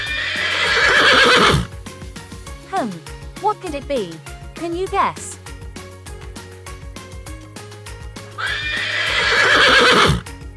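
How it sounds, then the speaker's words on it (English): A horse gives several loud, close whinnies with falling, wavering pitch, along with a few clip-clop hoof sounds. A voice speaks briefly at the start and again at the end. "That sound was a horse."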